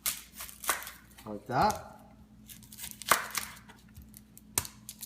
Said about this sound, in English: now what I'm going to do is with my onion, I'm going to cut the ends of my onion off.